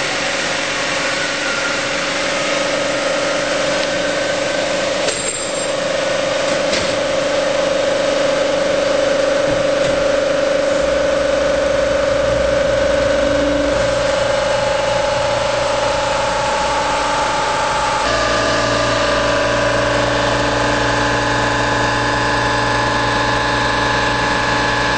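A machine resurfaces a Toyota 4AGE cylinder head set on parallels, giving a loud, continuous grinding hum with a steady motor drone that shifts slightly in pitch partway through, close up and with no talking.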